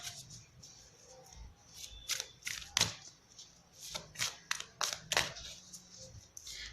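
Tarot cards being shuffled and handled close by, a quiet run of crisp riffling snaps and soft slides in irregular bursts, with no talk over them.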